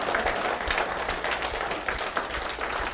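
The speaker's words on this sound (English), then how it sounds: "keep on clapping, raise them up right up in the air" A seated audience claps quickly and steadily at a business sales talk, with dense, continuous applause filling the room at a loud, close level.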